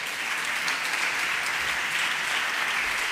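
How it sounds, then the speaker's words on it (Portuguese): An audience at a talk on digital-era skills applauds a speaker coming up, a steady, even roar of clapping at moderate volume that holds without a break from start to finish. "Uma salva de palmas para o Pedro"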